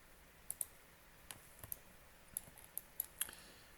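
Quiet mouse clicks on a computer during CAD modelling, about a dozen light taps in small irregular clusters over a faint background hiss.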